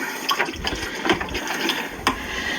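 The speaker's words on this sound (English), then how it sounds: "We're going to put a half a cup of cold water." Half a cup of cold water being poured into a cooking pot, with close splashing and gurgling pulses and a few brief louder spurts over a couple of seconds.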